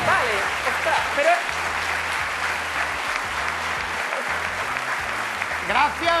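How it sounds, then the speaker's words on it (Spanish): Applause for a guest artist from Miami, steady clapping held at an even level throughout, with voices present in the clip. "aplauso grande"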